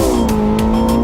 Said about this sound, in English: The Nordschleife trembled under the sound of the 918 Spyder.